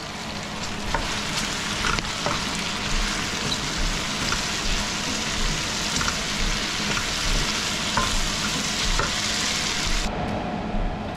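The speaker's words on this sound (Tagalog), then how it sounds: "Gigisa." Continuous crackling sizzle of pancit ingredients sautéing in a hot pan, with occasional stirring clinks, loud and close, stopping abruptly just before the end.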